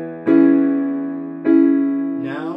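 Piano chords with the sustain pedal lifted and pressed again, each of two struck chords ringing out richly and slowly decaying, with a fresh chord change starting near the end; no voices.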